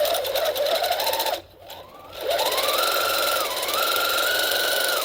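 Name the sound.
sewing machine stitching darts on a back bodice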